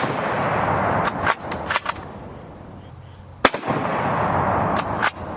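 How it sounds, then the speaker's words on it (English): Gunshots on an outdoor range aimed at a steel target, several sharp cracks in uneven bursts with a quieter gap in the middle, heard against a noisy open-air background. "Every time I shoot the steel, it is getting just like a little bit lower."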